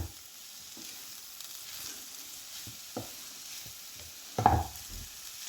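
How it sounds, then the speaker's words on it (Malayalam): Spinach thoran being stirred in a pan on the stove, a soft steady sizzle with scattered scraping taps of a spoon and a louder clatter near the end. "നല്ലതുപോലെ ഇളക്കി കൊടുക്കുക."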